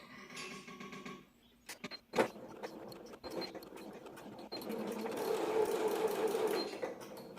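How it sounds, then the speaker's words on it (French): A sewing machine runs a straight stitch along the shoulder seam of a wax-print fabric blouse, starting with short bursts and clicks, then a steady whirring run of stitching, close and fairly loud with no talking. "Et on va coudre une première épaule. À 1 cm du bord."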